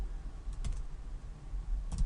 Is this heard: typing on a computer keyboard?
yes